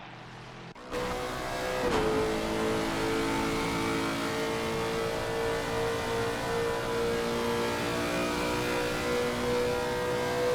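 A race car with a 5.4-litre V8 at Watkins Glen revs up and holds a loud, steady, thunderous engine drone from about one second in, close and continuous with no talk.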